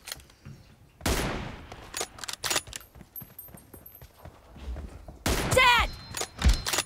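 Sharp gunshots from an M24 sniper rifle in a mobile shooter game's 1v1 deathmatch, a few loud isolated cracks separated by quieter game sounds, with someone talking over parts.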